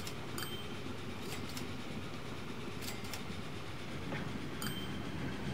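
Trams running in the Train Fever simulation game, a steady low rolling rumble with faint clicking over rails and a few brief high squeals, continuous and moderately quiet with no talking.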